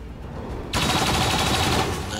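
Sudden burst of rapid automatic gunfire in the game XCOM 2, a loud dense rattle that kicks in abruptly and sustains for over a second.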